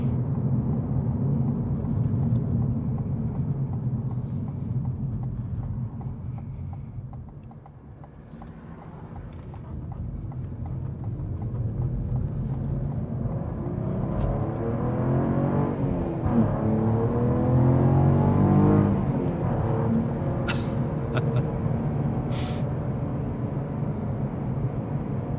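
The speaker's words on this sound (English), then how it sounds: "get a little acceleration test going up the ramp" A 2022 Cadillac CT4-V Blackwing pulls hard up a highway on-ramp, its engine a steady loud drone from inside the cabin that dips briefly, then builds and swells under acceleration with wind rush.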